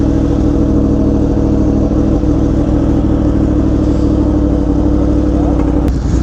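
Sport motorcycles on a group beach ride, including a Yamaha R1M, Aprilia RSV4, BMW S1000, Ducati Streetfighter and Suzuki Hayabusa, produce a loud, steady engine drone with wind rush, heard up close from one rider's bike.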